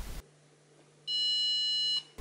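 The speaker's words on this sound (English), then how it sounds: "The first kind are the beeps the machine makes when you press the buttons." A Hotpoint HFO3T222WG dishwasher gives a single soft electronic beep, about a second long, as a button is pressed, heard close and alone over a faint steady hum.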